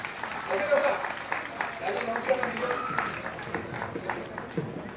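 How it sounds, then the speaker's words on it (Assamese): Scattered clapping from a crowd at a political gathering, moderately distant and uneven, mixed with murmuring and a voice talking over it. "তেখেতৰ কাৰণে এটা হাত চাপৰি বজাই দিয়কচোন ৰাইজসকলে"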